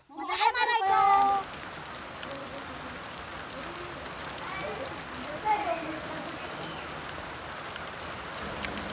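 Steady rain patters in the background after a brief loud burst at the start, with a cat meowing faintly now and then.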